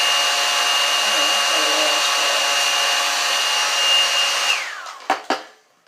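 A hair dryer blows with a steady, loud whoosh and high whine, then shuts off and winds down, followed by a couple of clunks.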